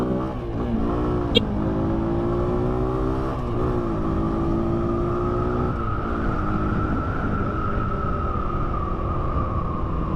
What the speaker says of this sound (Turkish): Şöyle bir gaz açalım.